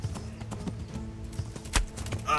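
Horse hooves in the Kingdom Come: Deliverance video game, a steady clip-clop of repeated hoofbeats at a walking pace, close and moderately loud, with faint game background.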